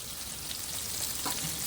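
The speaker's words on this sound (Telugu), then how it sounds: "అది ఫ్రై అయ్యేంత వరకు కలుపుకోవాలి" Onions and green chillies frying and being stirred in a pan, a steady close hiss of sizzling oil with faint scraping, heard alone without talk.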